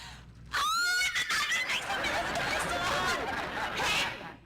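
A woman shrieks excitedly in a sudden loud, high, wavering squeal that breaks into frantic laughing and screaming, continuing for several seconds close by before fading.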